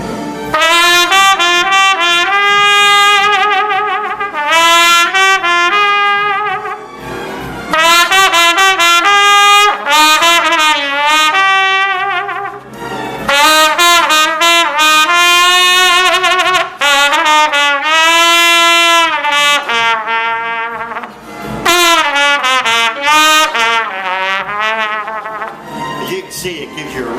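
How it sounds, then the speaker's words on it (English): Soft ballad trumpet played on a King Super 20 Silversonic, with sustained lyrical phrases and smooth legato lines played close and fairly loud, separated by brief pauses for breath. "if I want to play very soft ballad trumpet"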